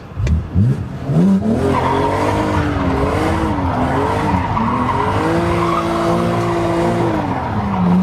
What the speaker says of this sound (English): if I want to do some donuts, with the press of a button, I can do some skids